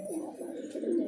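A pigeon coos up close, a soft rolling call that swells and dips twice within a second, heard alone.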